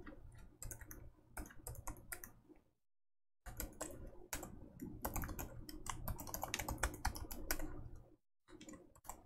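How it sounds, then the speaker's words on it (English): Typing on a computer keyboard while entering an SSH command to an Ubuntu server: bursts of quick, close key clicks with a brief pause, then a longer run of steady typing and another short stop. "I'll type that in."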